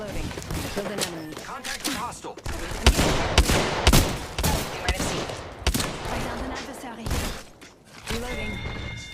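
Rapid gunfire in the Apex Legends video game: dense bursts of automatic shots and sharp cracks with impact and shattering effects, loud and close, continuing throughout with brief lulls, mixed with game sounds.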